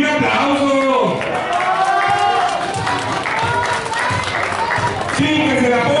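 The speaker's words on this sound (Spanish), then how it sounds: "Y un aplauso" A lucha libre crowd applauds and cheers as a masked wrestler is handed his mask at an anniversary show, a loud, continuous roar of clapping and crowd noise with voices shouting and talking throughout.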